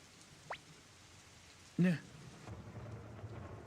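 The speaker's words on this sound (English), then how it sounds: "It won't stop raining. It's a nasty rain." Rain falling in the video game Suikoden, a steady faint patter throughout, with a brief short voice burst in the middle and the rain thickening slightly toward the end.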